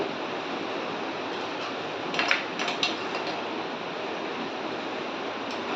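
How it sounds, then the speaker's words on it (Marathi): Dry chicken stirred in a pan after a little hot water is added: a steady, rushing sizzle with a brief cluster of metallic scrapes and clinks in the middle. "पुन्हा मिक्स करते"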